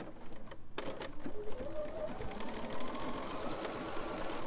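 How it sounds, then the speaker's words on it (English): A Bernina sewing machine with foot 3C sews elastic. A quiet rapid mechanical chatter starts abruptly and runs steadily, with faint handling noises. "So now I'm going to start sewing."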